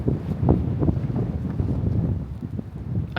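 Gusty wind buffets the microphone outdoors on a sunny dog walk, a rumbling, fluttering roar that rises and falls with no talking.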